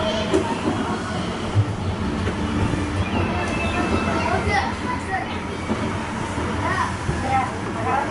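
Roadrunner Express, a kiddie roller coaster at Knott's Berry Farm, rumbles and clatters along its track in a steady loud rolling roar, with riders' voices and background chatter mixed in throughout.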